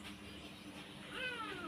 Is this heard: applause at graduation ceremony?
no